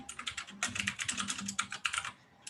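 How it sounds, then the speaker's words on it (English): A loud computer keyboard clatters with rapid, uneven keystrokes close to the microphone. The burst of typing runs for a couple of seconds before trailing off, with no speech. "Your keyboard is so loud, by the way."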